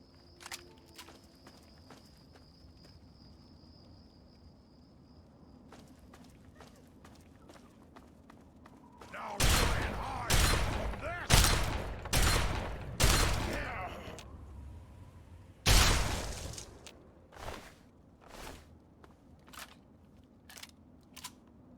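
Assault rifle fire in the game Fallout 3: a cluster of loud, sharp rapid shots in bursts in the middle, followed by scattered single cracks, over a quiet background hum.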